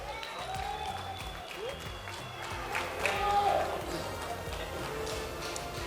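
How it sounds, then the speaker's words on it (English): An audience at a season finale event breaks into applause, a dense patter of many hands that swells briefly around the middle. A voice carries faintly over the clapping. "Please give her a very big round of applause."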